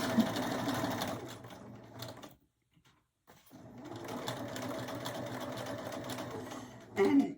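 A sewing machine stitches a hem with pink thread in the bobbin, running in close rapid bursts with a brief pause midway before resuming, and a voice talks over it.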